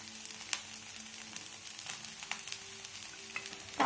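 Vegetable fried rice with ground pepper and coriander being stirred in a hot pan: a soft continuous sizzle with occasional scraping taps of the utensil, close and fairly quiet, ending in a louder clatter.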